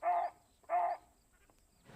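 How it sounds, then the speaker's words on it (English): An animal out in the wild gives two loud, close warning barks about half a second apart, followed by quiet. "See there, he's barking now,"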